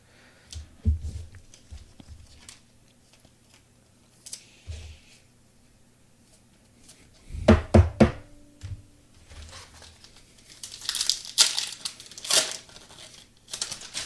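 A 2025 Topps Heritage High Number trading card pack wrapper is torn and crinkled open nearby, in scattered bursts of crackling and rustling separated by quiet pauses.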